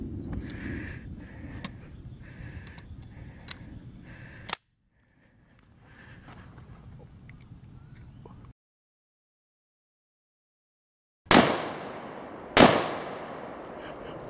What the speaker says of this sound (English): we're gonna give it a couple shots and see if it actually will shoot